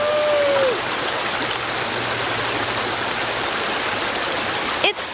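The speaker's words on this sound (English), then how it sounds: "Just had to share a moment by my creek." A creek flows in a steady, close, continuous wash of running water on a warm day, with no voices over it.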